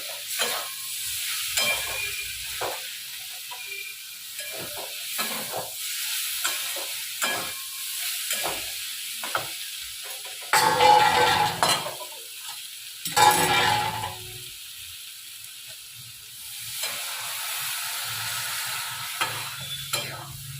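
Potatoes frying in a pan with chilli and a little sugar, a steady sizzle punctuated by scraping stirs and a couple of louder hissing bursts, close and continuous for the full stretch without talk.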